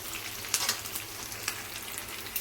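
Cashews frying in oil in a home kitchen pan give a steady soft sizzle with a few brief crackling pops, close and fairly quiet, with no voices.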